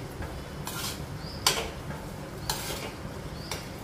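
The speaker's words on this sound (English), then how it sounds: "fry it for 1 to 2 minutes to ensure that the moisture content is reduced" Amla frying in a pan while being stirred, a soft steady sizzle under a few scraping sweeps and light clinks of a utensil against the pan, close and fairly quiet.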